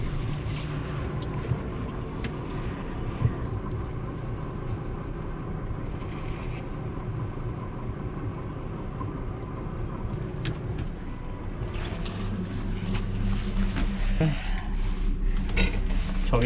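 A small fishing boat, a YFR-24, reverses at full throttle off a launching slope, its steady engine drone mixing with water and wind noise and building louder toward the end.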